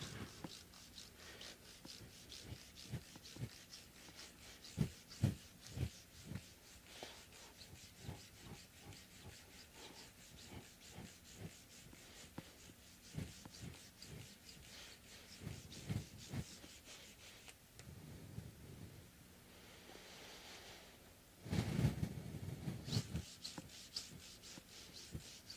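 Fine-grit sandpaper, up to 12,000 grit, rubbed over the nut and frets of a Fender Jazz Bass, faint dry scratching strokes in irregular bursts, with a louder stretch of rubbing near the end.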